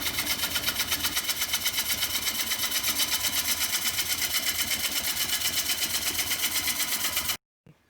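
A wood lathe spinning a winged bowl blank, with a steady rapid rhythmic thumping and whir as the tool cuts, close and loud, then stopping abruptly near the end.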